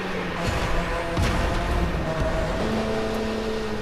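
A car engine in the video game The Crew 2 drones and shifts pitch continuously, revving up and down as if accelerating and changing gear, with a steady mechanical hum.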